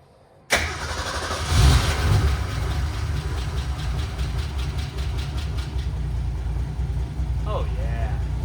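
A 1961 Ford Ranchero engine cranks and catches abruptly, revs up briefly, then settles into a steady rough idle close by, with a person talking over it near the end.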